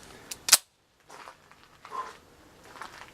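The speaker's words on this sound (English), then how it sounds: "That's not bad for a 103-year-old pistol shooting modern production Remington ammo." A 1915 DWM P.08 Luger pistol fires modern Remington ammunition outdoors, giving a single sharp crack early on followed by quieter handling noises and faint sounds.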